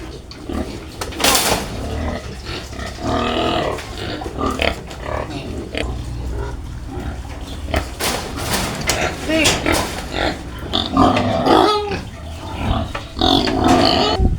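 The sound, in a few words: pet pigs oinking and eating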